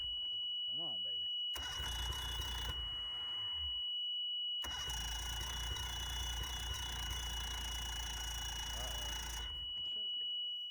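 A Mercury 60hp outboard on a free bass boat, left sitting for 10 years, cranks over in two long, loud, grinding bursts with a steady electronic tone and brief talk in the pauses.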